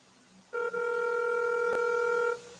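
Telephone dialing tones play as a call is placed, a steady electronic tone holding for about two seconds with a brief click partway through, no talking.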